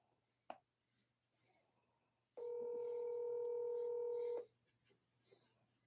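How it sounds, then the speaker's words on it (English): Outgoing call being dialed on a phone: after a brief click, a single steady electronic tone holds for about two seconds, clear and fairly loud against a quiet room. "I'll make a phone call real quick."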